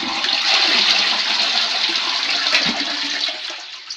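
Household toilet flushing, a loud close rush of water swirling and draining for several seconds before gradually tapering off.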